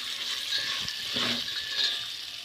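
Roasted gram and peanuts sautéing in oil in a pan for spicy puffed rice, a steady broad hiss of frying with faint scraping and stirring noises, close and continuous.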